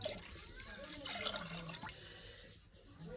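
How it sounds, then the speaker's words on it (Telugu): Rice-washing water poured into a cooking pot for an oyster mushroom curry, a steady watery splashing and trickling, fairly soft and close, with no talk. "కడిగినటువంటి బియ్యం నీరు కూడా వేసుకుందామండి"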